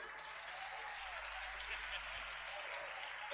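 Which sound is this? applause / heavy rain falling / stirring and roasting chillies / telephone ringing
applause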